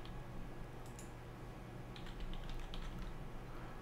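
Light keystrokes on a computer keyboard tap in short, quiet bursts over a steady low background hum, with no talking.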